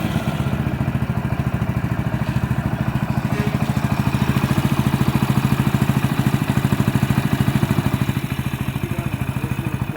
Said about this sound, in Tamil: அதுக்கடுத்து வண்டியை ஸ்டார்ட் பண்ணி பார்க்குறோம்.